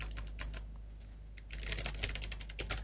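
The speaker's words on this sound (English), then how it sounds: "I have a very clicky keyboard." Fast typing on a clicky computer keyboard, crisp keystrokes in quick bursts close to the microphone, pausing briefly and then resuming even denser over a low steady hum.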